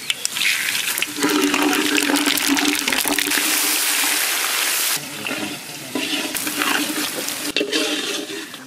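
Garam masala, bay leaf and cumin fry in a pan for egg dum biryani, giving a loud, steady, close hiss of sizzling oil that eases briefly and then picks up again.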